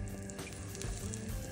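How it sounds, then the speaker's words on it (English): Chicken breasts sizzling in a pan of butter and oil over raised heat, a steady close crackle and hiss with popping bubbles throughout. "You want a little bit of sizzle."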